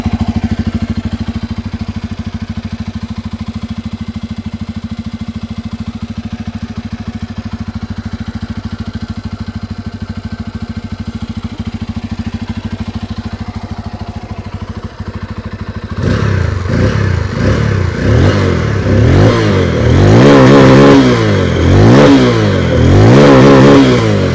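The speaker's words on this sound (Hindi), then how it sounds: "अभी स्टार्ट करते हैं एन 250 जिसमें डुअल बैरल एग्जॉस्ट देखने को मिलता है" A Bajaj Pulsar N250 motorcycle with a dual barrel exhaust idles with a steady, throbbing rumble for about sixteen seconds, then is revved hard in repeated loud, rising and falling bursts close by.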